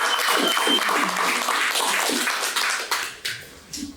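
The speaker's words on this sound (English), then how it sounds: "give her a warm round of applause" Audience applause at a talk, a brisk burst of many hands clapping that thins out into a few scattered claps near the end.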